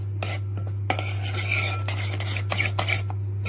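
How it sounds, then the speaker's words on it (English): A spoon scrapes and clinks around a bowl while mixing tandoori chicken marinade with cayenne pepper, irregular close stirring strokes over a steady low hum. "I'm just going to mix this together"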